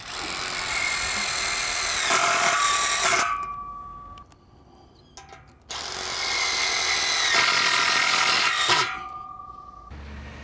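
A power drill driving screws into a cleat for aerated autoclaved lightweight concrete wall panels, two long, loud whirring runs of the motor, each winding down, separated by a short pause with faint knocks.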